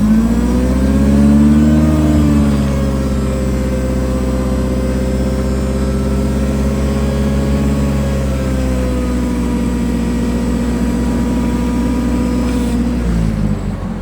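The engine of a Mitsubishi FG15 forklift, a 1.5-tonne truck, idles steady and close for the whole stretch, a smooth even drone with slight pitch dips and no talking.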